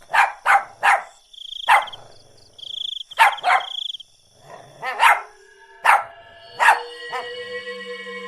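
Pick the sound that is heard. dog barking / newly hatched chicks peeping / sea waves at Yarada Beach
dog barking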